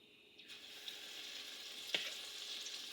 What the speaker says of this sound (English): I'm going to get these, drop these off in the oil.